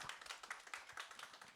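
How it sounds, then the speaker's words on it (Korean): An audience at an accounting exam course information session claps to welcome a presenting accountant, a quiet, uneven patter of scattered claps from a small group, heard alone without talk. "따뜻한 박수 부탁드리겠습니다."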